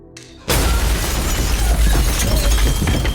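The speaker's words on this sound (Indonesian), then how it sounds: "Tak lama Sunarli meledakkan bomnya hingga terjadilah ledakan" A bomb explodes in an action film: after a short quiet lead-in, a sudden loud blast erupts into a sustained, roaring rumble with crackling debris and shattering that stays dense and heavy to the end.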